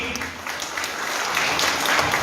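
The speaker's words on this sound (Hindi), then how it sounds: "एक बार जोरदार तालियां सभी के लिए।" Loud crowd applause at an engagement ring ceremony in Bodh Gaya, a dense, even roar of clapping hands that builds slightly in intensity over a couple of seconds, with faint voices mixed in beneath.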